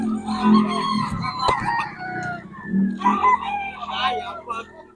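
Young gamecocks (stags) at a market crow and cluck in bursts, close and loud, with someone talking over them throughout.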